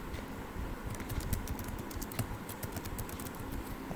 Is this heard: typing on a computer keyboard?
yes